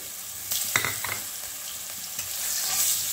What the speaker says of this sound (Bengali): আলুগুলোকে ভেজে নেব একটু ভালো করে।